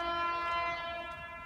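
A Great Western Railway HST train arriving with its horn sounding, a loud sustained multi-tone blast held throughout over a low rumble of the approaching train.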